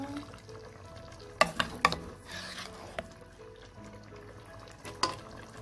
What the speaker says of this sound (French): Je vais rajouter maintenant notre gombo.